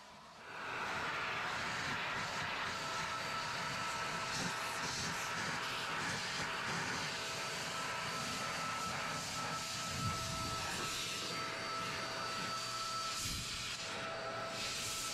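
An Adams Mini heated, filtered air cannon blower runs close and loud, a continuous rushing whoosh of air with a steady high whine, kicking on after a moment and holding steady to the end.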